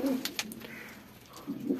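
Pigeons cooing at a rooftop coop with grain scattered below, throaty low coos that repeat in short bursts, close and fairly loud, with no talk.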